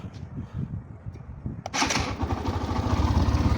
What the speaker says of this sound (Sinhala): ඊට පස්සේ අපිට පුළුවන් බයික් එක ස්ටාර්ට් කරනවා.